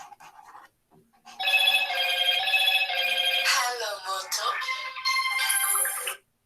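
A telephone rings loudly and close for several seconds in a sustained electronic bell-like tone that shifts pitch partway through, after a brief faint sound and a short pause.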